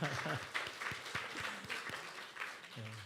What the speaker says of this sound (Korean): 우리 박수로 환영해 드릴까요?